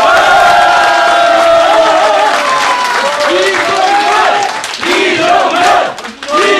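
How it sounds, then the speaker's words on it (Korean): Crowd at a Korean political rally held with a hiking club, applauding and shouting loudly in unison, dense clapping under rhythmic chanting voices and cheers, close and energetic, briefly dipping near the end before resuming. "우리 저 이종걸 의원님 우리 당 대표 도전하시는데 어, 꼭 대표가 되어 달라고 큰 박수 한번 해주십시오."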